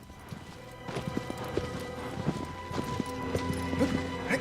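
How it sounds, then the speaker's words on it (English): Horse hooves clip-clop rapidly and steadily at a gallop in a video game, with a faint whinny and background rustle, a moderately close pass with no talking. "Alright, you damn horse, stop racing past."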